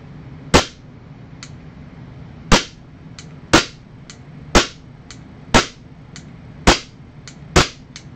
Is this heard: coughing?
no